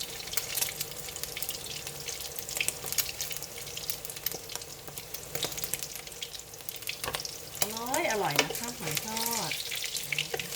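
Crispy batter frying for Thai fried oysters, a steady close sizzle and hiss that runs throughout with faint clatter, and a brief high squeal near the end.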